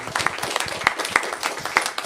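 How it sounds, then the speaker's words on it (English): A short burst of applause, a scattering of claps with some louder individual hits, sounding like a modest group in a room. "give her a nice round of applause"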